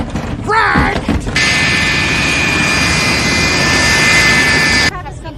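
Passenger airplane coming in to land, its jet engines giving a loud, sustained whine and roar that rises after a brief burst of voices and then cuts off abruptly near the end.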